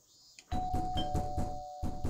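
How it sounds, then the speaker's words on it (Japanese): Doorbell chime in the Japanese horror game Yuoni, a two-tone ding-dong ringing out at close range, followed by a burst of rhythmic knocking on a door. "再びチャイムが鳴らされドアがノックされる。"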